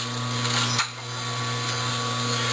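Omega 8003 juicer grinding tomatoes into homemade juice, a steady motorized whir with a brief dip in the middle, close and continuous with no talk.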